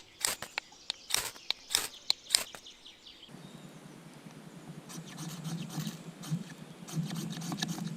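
A ferrocerium fire steel from a survival kit is scraped with the back of a knife blade: about seven sharp, close rasping strokes in quick succession, followed by a steadier, quieter rubbing noise.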